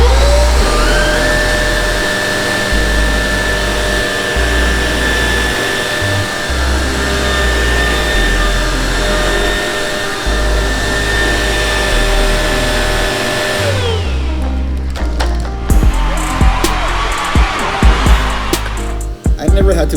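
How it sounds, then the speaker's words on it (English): A Shark Duo Clean vacuum cleaner drones loudly and steadily with a high whine, picking up long hair, then cuts off, leaving clattering handling noises and brief voices. "I never had to vacuum up anything this long at school"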